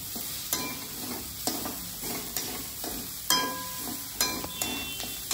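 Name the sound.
stirring coriander, fennel powder and salt together in a pan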